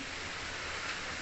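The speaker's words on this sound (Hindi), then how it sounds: "बाहर बारिश इतनी तगड़े वाली हो रखी है" Heavy rain pours down in a dense, steady hiss, loud and unbroken throughout.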